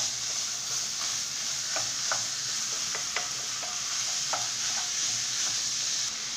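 Minced meat and onions fry together in a pan for Algerian bourek filling, a steady close sizzle with faint scattered clicks of a spoon stirring, no voices.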